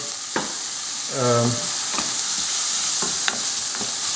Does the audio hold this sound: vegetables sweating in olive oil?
yes